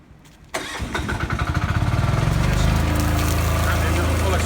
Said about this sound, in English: start the engine on full accelerator.